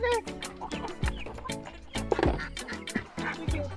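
Chickens loose outside their coop cluck close by in a busy, overlapping series of short calls, with a few louder squawks mixed in.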